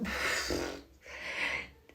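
Two broadband sniffs from a person with allergies, one after another, fairly close with a short pause between them.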